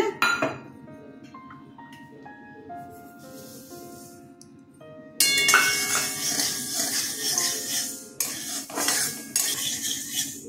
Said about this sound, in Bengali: কড়াই গরম হলে সর্ষেগুলো প্রথমে ভেজে নিচ্ছি